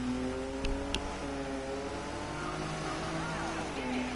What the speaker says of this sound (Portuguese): o som desse carro aqui lembra um pouco do Porsche